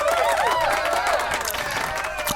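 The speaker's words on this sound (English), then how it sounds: "let's clap it up for that, man" Podcast audience applauding and cheering in a room, a dense burst of clapping with whoops and voices mixed in, loud and close, fading slightly toward the end.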